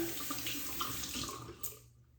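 A razor rinsed under a running tap, with steady close water splashing into a sink and a brief burst of spatter near the end before the flow cuts off.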